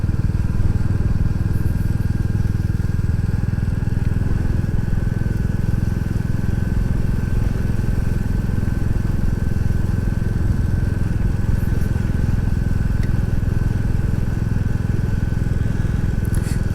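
Royal Enfield Classic 350 motorcycle riding along a mucky road, a steady low engine drone with wind rush held at constant level throughout, no talking.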